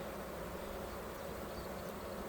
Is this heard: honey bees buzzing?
yes